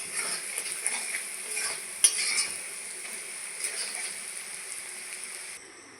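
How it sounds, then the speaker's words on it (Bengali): Fish fat fries in a pan with a steady, soft sizzle, punctuated by occasional stirring scrapes and a sharp utensil clink, fairly quiet and close with no talking. "আর এই মাছের তেল বেশি ভাজা যাবে না"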